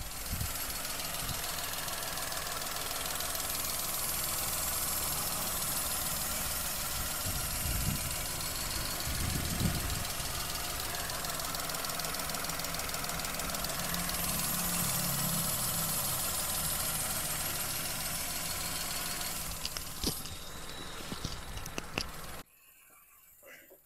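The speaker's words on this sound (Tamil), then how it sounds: "வண்டியோட இன்ஜின் நாய்ஸ் நான் உங்களுக்கு மைக்கை பக்கத்தில் வச்சு எப்படி இருக்குன்றதை காட்டுறேன், அதையும் கேளுங்க." A 2020 Maruti Alto's engine idling with the mic held close, a steady, loud mechanical hum and rattle that runs evenly before cutting off abruptly near the end.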